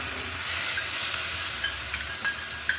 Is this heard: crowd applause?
no